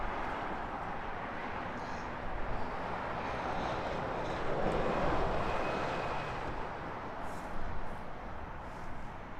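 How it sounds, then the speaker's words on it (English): Vueling Airbus A320 in Dream Play and Fly livery departing Heathrow for Barcelona, a distant, fairly quiet jet rumble that swells slightly midway and stays constant, with some wind-like hiss and no talking. "So Vueling, Dream Play and Fly livery. A320 off to Barcelona."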